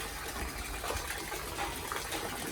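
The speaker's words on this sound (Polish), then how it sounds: "Woda się leje," Steady running water, a continuous broadband rush like a stream or tap flowing, fairly constant in level with no voices.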